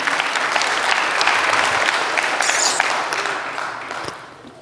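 A church congregation claps together, a dense, sustained burst of applause that fills the room, holds steady for a few seconds and then gradually thins and fades out.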